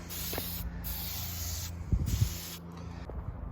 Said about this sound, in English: for now, let's spray and clean. Okay, so let's spray this down.